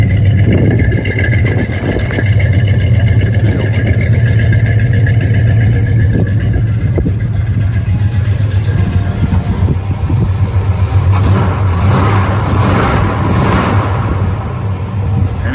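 A car engine runs loud and close with a deep, throaty exhaust rumble, steady throughout, swelling slightly as it revs near the end.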